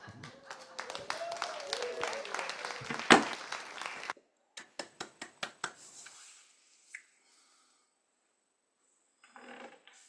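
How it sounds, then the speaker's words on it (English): Scattered clapping from a small audience at an after-service church forum, a brief burst of claps with a cheer, then a few isolated claps tapering off into near silence, with faint murmuring at the end. "I thought we should at least give a cheer or a clap or something for the stewardship work"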